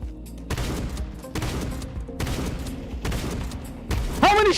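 Rapid gunshots in Counter-Strike 2 ring out in several close, punchy bursts separated by short gaps, with a rising electronic chirp at the very end.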